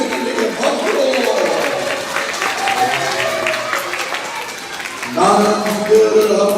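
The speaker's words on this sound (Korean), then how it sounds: "우리 고비 선생님에게 박수." Children at a church summer revival camp clap for their teacher in a loose, busy burst of applause that swells again near the end. Voices and stirring from the young crowd mix in.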